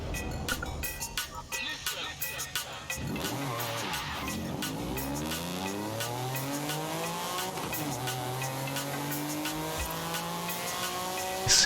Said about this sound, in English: Yeah, let's take the NSX out.